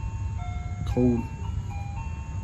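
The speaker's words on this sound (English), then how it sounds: "Why is it that all ice cream and snowball trucks play Christmas music in the summertime?" An ice cream and snowball truck plays Christmas music outdoors in summer, a tinny melody of sustained tones running steadily under a brief spoken word and a burst of nearby noise.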